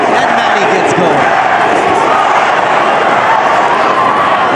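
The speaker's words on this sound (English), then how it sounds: "The crowd gets going, and Manny gets going." A large boxing arena crowd roars and cheers continuously during the Pacquiao vs Barrios fight, a dense loud wash of voices with no break.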